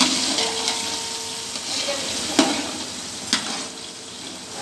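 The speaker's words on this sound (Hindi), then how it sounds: "अभी हम इसमें मसाला डाल रहे हैं, पिसा हुआ अदरक, लहसुन, हरी मिर्ची और कुटी हुई मिर्ची।" Crushed ginger, garlic, green chili and crushed chili fry in a biryani pot, giving a soft, steady sizzle with a few sharp clinks from stirring.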